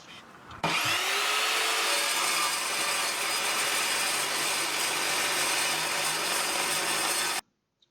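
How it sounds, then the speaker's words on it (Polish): An Evolution R210SMS 210 mm TCT miter saw spins up sharply and cuts through 5 mm steel flat bar with a loud, harsh grinding screech that holds steady for several seconds before stopping abruptly. "płaskowniki z blachy piątki to żadne wyzwanie dla tej piły"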